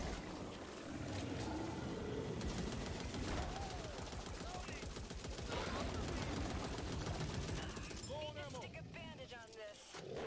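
Rapid bursts of gunfire from the co-op zombie shooter Back 4 Blood keep up loudly through the whole stretch, with bright chirping effects near the end and players talking over the action.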